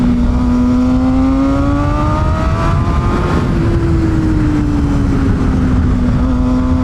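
A Kawasaki ZX6R sport bike with a flashed ECU is ridden. Its engine gives a loud, close, continuous buzzing drone whose pitch rises and dips gently over the seconds, with wind and road noise beneath.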